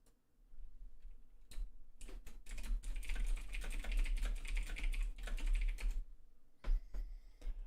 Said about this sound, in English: I'm just a very fast typer.